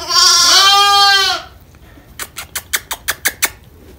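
Sheep and lambs in a pen, one long loud bleat up close followed by a quick series of short, sharp bleats or calls.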